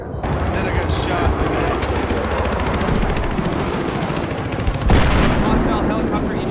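Battlefield 3 gunfire in a dense multiplayer firefight, a continuous roar of shots and explosions with a sharper burst near the end, with vehicle and helicopter noise mixed in.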